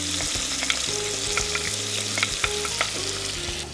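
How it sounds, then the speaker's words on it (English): Passata goes into a hot paella pan alongside pork belly, setting off a loud, close, continuous sizzle with scraping and clatter over a low droning tone, and no voices. "Now we'll add our passata to the pan"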